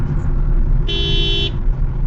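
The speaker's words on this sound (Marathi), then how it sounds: "पाठीमागलचे भाऊ मला हॉर्न वाजवत होते" A car horn from a vehicle behind sounds once in a steady blast of under a second, over the continuous low rumble of night road traffic and engine noise.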